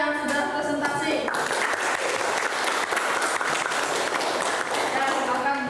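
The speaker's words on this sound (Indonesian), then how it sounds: "kita berikan aplaus pada kelompok 2 yang sudah presentasi" Applause for a group of students after their presentation in a classroom, with a room full of people clapping steadily for several seconds after a voice fades out at the start.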